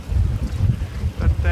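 Strong gusty wind buffets the microphone at a squally boat anchorage in the Whitsundays, a loud steady roar with rumbling low gusts throughout.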